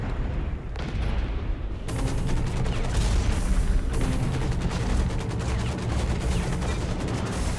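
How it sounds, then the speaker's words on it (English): Grenades launch and explode in Hawken, a mech combat video game, as loud, dense bursts of booming blasts and gunfire that keep up without pause. "Let's launch a couple of grenades out here if I can remember what the button is."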